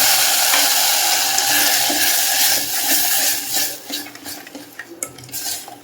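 A spoon stirs sugar and milk together in a pan for a desi ghee sweet, making close, continuous scraping and clinking. The stirring starts steady, then turns into uneven, spaced scrapes and taps, with a light sizzle underneath.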